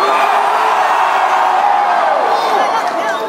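A rock concert crowd at a show screaming and cheering loudly in a sustained roar that fills the venue and fades slightly at the end.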